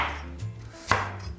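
A knife chops a sweet potato into chunky pieces on a board, giving a few distinct close thuds spaced unevenly, with no talk over them.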